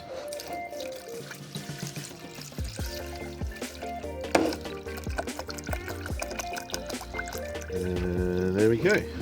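Demineralized water pours into a container, the splashing trickle rising in pitch toward the end as the vessel fills, heard close over steady background music.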